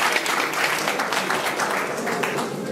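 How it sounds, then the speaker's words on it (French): Steady crowd applause for the minister Adama Koné at the Abidjan Innova 2018 international inventions fair, a dense, even wash of many hands clapping that holds level throughout without letting up. "Applaudissons le ministre"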